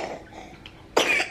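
A lingering cough at home gives one close, harsh burst after a quiet stretch, followed by a second short hack.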